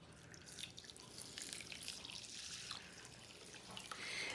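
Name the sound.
canned chicken broth being poured into pan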